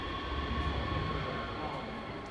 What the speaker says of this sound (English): right above us is the trains. You can hear them.